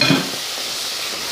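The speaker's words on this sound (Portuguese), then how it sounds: "Dou uma mexidinha." Chicken and quinoa stirred in a hot pan, a soft sizzle and hiss with a brief scrape at the start, then steady frying noise, close and moderately loud, no talking.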